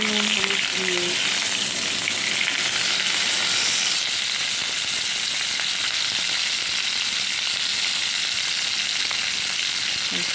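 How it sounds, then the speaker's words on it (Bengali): Cauliflower fries in hot oil in a wok, giving a loud, continuous sizzling hiss close by, with a faint voice briefly audible at the start. "কড়াই তেল দিয়েছি তেল গরম হয়ে গেছে আর কপিটা একটু লাল লাল করে ভেজে নেব"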